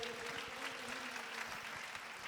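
A church congregation claps continuously, a dense patter of many hands heard from a little distance, with a sustained tone underneath.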